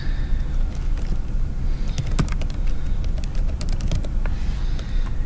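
Keys tapped on a computer keyboard in quick irregular bursts, close and crisp, with short pauses between runs of clicks over a low steady room hum.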